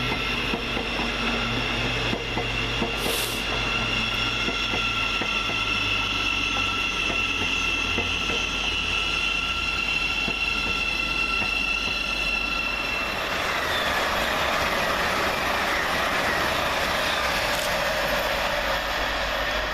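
An LNER class 801 and a Govia class 717 train pass through Welham Green station with a steady rumble, a rhythmic clatter over the rail joints and a thin wheel squeal. The noise changes as one train gives way to the other.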